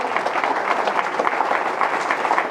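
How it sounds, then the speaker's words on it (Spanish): A church congregation claps during a sermon, broad, even applause from many people holding steady at moderate loudness without a break. "dele un aplauso al Espíritu Santo"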